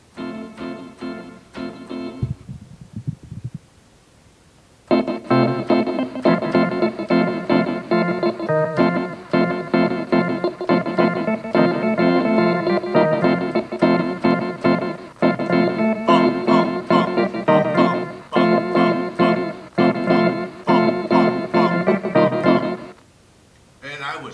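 A syncopated rock and roll beat, guitar and drums chugging in a driving, shuffling rhythm after a brief stop-start opening, loud and continuous.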